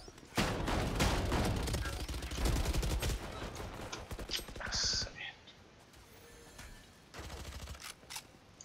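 Rapid bursts of Valorant gunfire crackle in quick succession, dense at first and then sparser, with a voice speaking alongside.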